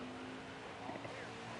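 NASCAR Xfinity Series cars race in the Simply Orange 250 at Daytona International Speedway in a video game, a dense steady engine roar filling the brief moment under faint commentary.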